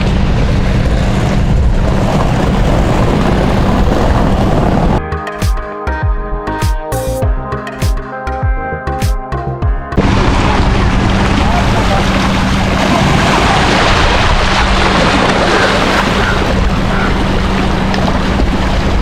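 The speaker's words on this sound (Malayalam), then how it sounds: "ബോട്ട് അങ്ങോട്ടും ഇങ്ങോട്ടെല്ലാം പോകുന്നുണ്ട്" Boat engines and water noise from vessels moving back and forth along Kochi Marine Drive, heard as a steady windy wash with a louder, harsher engine stretch in the middle.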